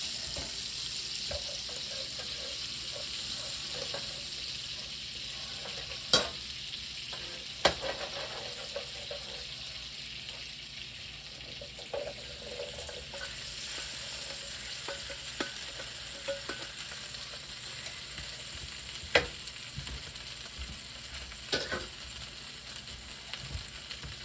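A steady, soft sizzle of potatoes pan frying in a skillet runs throughout, broken by a few sharp clicks and scrapes of stirring.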